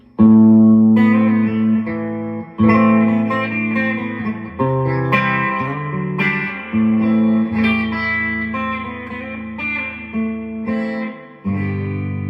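A clean electric guitar, an 80s Ibanez AR, plays chords and single notes through a Fender Frontman 212R amplifier, loud and close, with ringing sustain and a little reverb.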